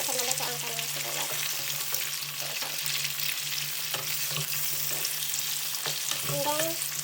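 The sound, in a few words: onion frying in a pan while cooking adobo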